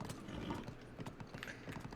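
A horse's hooves clip-clop in a steady, quick trot in Zelda: Breath of the Wild, close and fairly quiet, with faint game ambience behind.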